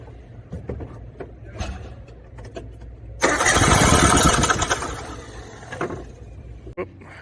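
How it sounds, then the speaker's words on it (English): A Suzuki Samurai's engine cranks over for about a second and a half during a spark-plug check, a loud churning whir that stops abruptly, framed by quieter clicks and handling noise. "So I'm gonna crank it over and we'll see if you guys tell me if you see a spark."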